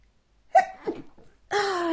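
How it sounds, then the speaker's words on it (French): A woman gives a single close sneeze with a sharp intake and burst, then a short pause before she starts talking again. "Je vais éternuer, je suis désolée."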